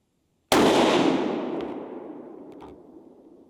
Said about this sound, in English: So we're just gonna shoot it a couple of times and make sure we're good before heading out.